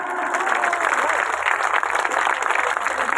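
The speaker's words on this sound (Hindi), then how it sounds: "जोरदार तालियां" Audience applause at a Hindi-language gathering celebrating India–Nepal friendship, a dense steady wash of many hands clapping close and loud for about three seconds, with no pauses.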